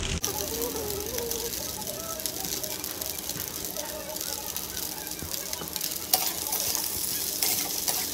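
Tomato sauce goes into a pan of paneer pasta that sizzles and fries steadily, with a spoon stirring and scraping against the pan throughout and a voice talking over the cooking.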